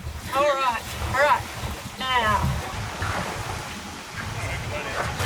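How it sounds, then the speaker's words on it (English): Sailboat under engine power motoring away from an anchorage at Triabunna, Tasmania, a steady low engine and water rumble running throughout beneath close talk and wind. "So we're just motoring away from our anchorage last night at Triabunna."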